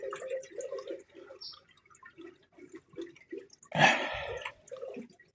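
Water dripping and leaking from the radiator of a 1966 Mustang, with soft irregular drips and trickles close by and a brief louder splash midway.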